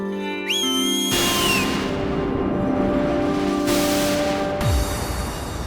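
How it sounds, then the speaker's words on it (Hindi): A whistle gives a sharp rising tone early on, part of a magical children's fantasy scene, followed by swelling whooshing effects and a sustained layered music bed without speech. "माफी मांगने के लिए सीटी बजाई थी।"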